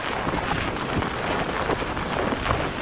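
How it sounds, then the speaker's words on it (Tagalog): Strong storm wind roars continuously outdoors, buffeting the microphone with a dense, steady rush that has no pauses and no clear voices. "Lakas pa rin yung hangin."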